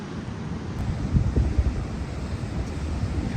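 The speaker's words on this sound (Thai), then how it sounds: "ทะเลงามครับทะเลฟังเสียงทะเลชื่นใจ" Sea waves wash against a rocky shore in a steady, rushing noise, with light wind buffeting the microphone and a few slightly louder surges in the middle.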